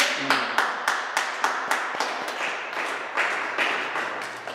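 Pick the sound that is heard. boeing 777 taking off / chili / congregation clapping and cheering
congregation clapping and cheering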